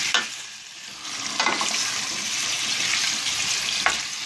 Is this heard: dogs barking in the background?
no